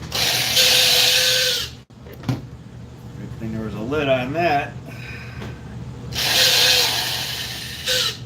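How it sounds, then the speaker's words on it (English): An old Craftsman power drill whirs loudly in two bursts, separated by a short stretch where a person speaks briefly. "Old Craftsman drill."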